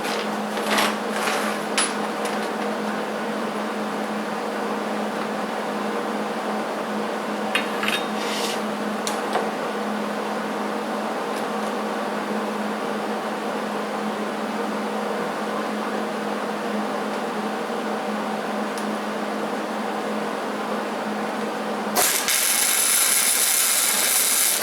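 Arc welding a metal wireframe element for an animated Christmas light display: a steady, continuous buzzing hiss runs throughout with a constant hum, then grows brighter and harsher in the last few seconds, with no talking.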